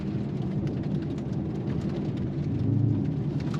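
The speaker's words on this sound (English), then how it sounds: "Sticky tires, you can hear them grabbing little pebbles and throwing them in the fender wells" Sticky tires on a supercharged Challenger SRT8 flinging small pebbles into the fender wells, heard as a steady gritty patter and rumble of road noise throughout, with no talking.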